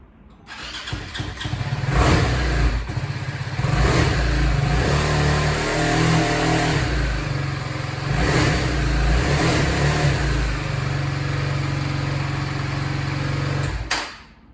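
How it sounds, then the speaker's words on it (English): A BMW G310R motorcycle engine cranks and catches, then idles roughly and revs up and down repeatedly, loud and close, never revving beyond about 4,000 rpm, before cutting off. "see if it will fire up"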